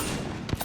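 Gunfire in Apex Legends on PS4, a steady loud rattle of shots with a couple of sharper bursts near the end.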